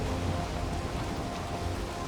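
Continuous rain hisses over the ocean biome in Valheim, a short, even wash of noise with a low rumble beneath and no speech.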